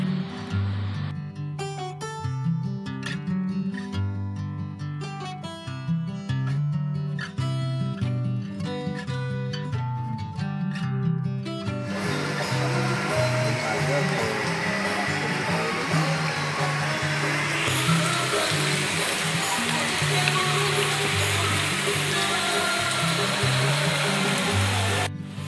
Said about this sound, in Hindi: देखन केते जोर वर्षा होती